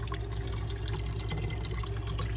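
A cup of water poured gently over spaghetti in an Instant Pot, a steady, close, broadband watery rush without a break.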